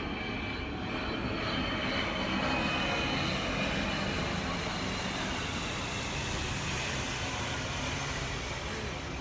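An airplane engine drones overhead in a continuous, broad roar that stays steady and fairly loud for around nine seconds, with no other sounds standing out.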